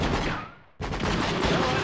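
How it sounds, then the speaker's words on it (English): Gunfire from many gunmen in the video game True Crime: Streets of LA, a dense, loud, continuous barrage of overlapping shots that dips briefly, then resumes just as heavily. "I did not expect that many people to be shooting at me at one time"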